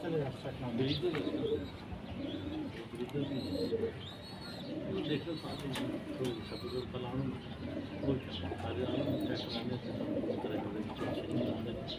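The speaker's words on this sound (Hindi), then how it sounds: "ये दोस्तों गुलाबी डोरे वाला कबूतर है।" Pigeons coo steadily in soft, repeated low murmurs, with someone talking over them in Hindi throughout.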